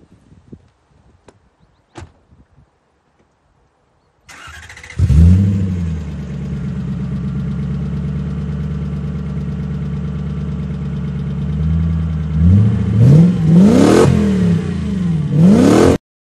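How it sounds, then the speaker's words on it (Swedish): A 1992 Lexus LS400 with its exhaust cut midway and all mufflers removed cranks and starts after a few quiet clicks, idles loud and raw, then revs sharply several times close by. "här ska ni få höra ett klipp på hur den låter utan avgassystem, eller i alla fall kapat från mitten då alla ljuddämpare är borta"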